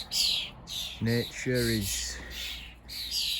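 Birds chirp and call in an outdoor garden, including a blackbird, with high tweets scattered through the moment while a person speaks briefly in the middle.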